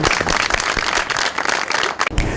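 A studio audience at a Pakistani television comedy show applauds loudly and steadily, a dense close wash of clapping that ends abruptly.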